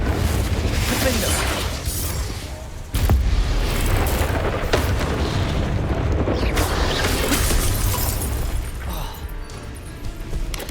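Confringo blasting spell explosions in the video game Hogwarts Legacy: loud booming blasts with a sharp hit near the three-second mark, over continuous rumbling game sound, with some voice in the mix.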